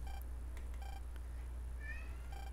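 A small cat meows a few times, faint and close, over a steady low hum and bleeping tones from the Nintendo DS game MegaMan Star Force.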